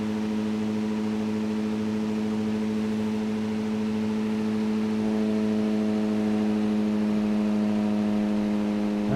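An engine hums steadily at a few hundred RPM above idle while charging its battery through an amp meter. The pitch rises slightly partway through as it revs past 1,000 RPM, loud and close with no voices.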